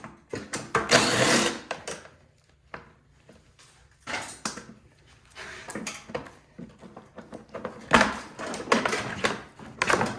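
Nuts and bolts are worked loose from the plastic cover of a snow blower, with close, rough bursts of mechanical rattling and scraping separated by short quiet gaps.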